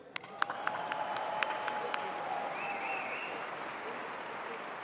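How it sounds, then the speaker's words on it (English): Audience applause at a Chicago police event fills the clip, a steady dense wash of clapping from a large crowd with a few sharper nearby claps standing out early on. "let's hear a big round of applause for that playlist"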